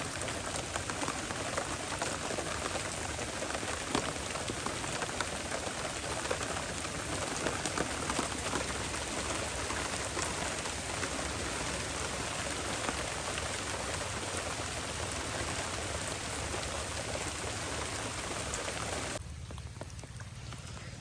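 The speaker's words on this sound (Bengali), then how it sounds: "বৃষ্টি থামার কোনো নামই নেই" Heavy rain pours steadily during a fishing outing, a dense continuous hiss that stays loud and even throughout, then drops abruptly to a quieter wash near the end.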